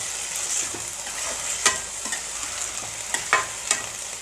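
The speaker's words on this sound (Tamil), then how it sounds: "இப்போ நல்லா ஒரு தடவை கிண்டி விட்டுட்டு" Drumstick leaves frying in a pan for murungai keerai poriyal, salted and stirred, with a steady close sizzle and a few sharp spoon-against-pan scrapes and clinks.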